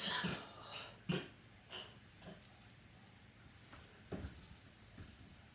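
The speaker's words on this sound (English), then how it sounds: "somebody was coughing." Several faint coughs, spaced a second or so apart, sound from a distance in an otherwise quiet room.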